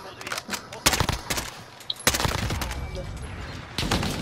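Bursts of gunfire in a French squad-based battle royale shooter (four-player armored mode), sharp shots clustered around the middle and end, with voices talking over the firing.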